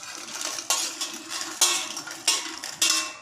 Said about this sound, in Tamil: இப்போ நான் காஞ்ச மிளகா போடுறேன்.